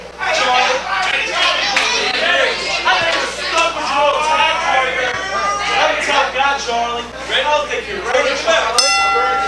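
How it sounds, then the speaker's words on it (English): Wrestling ring bell at a CWF Mid-Atlantic championship show, one sharp clang near the end cutting through steady crowd chatter and an announcer's voice. "Bell sounds, one fall for the Ultra J Championship."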